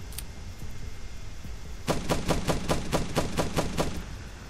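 Rapid automatic gunfire in the game The Last Stand Aftermath, about a dozen evenly spaced shots in a steady burst that starts partway through after a quieter stretch of background noise.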